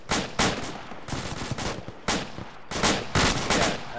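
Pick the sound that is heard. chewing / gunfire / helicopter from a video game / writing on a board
gunfire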